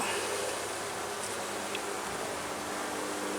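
A dense, continuous buzz of honey bees rises from an open hive packed with ten frames, close and steady without pauses.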